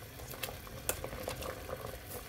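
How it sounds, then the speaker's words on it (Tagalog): A pot of chicken, carrot, barley and coconut soup bubbling at a steady boil, soft continuous burbling with occasional small pops, close and alone. "Kumukulo na ang aking sabaw."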